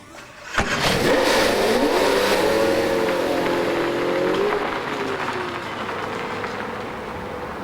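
A McLaren F1 engine starts with a sharp catch and revs hard, its tone climbing as the car accelerates, then settles into a steady, loud drone.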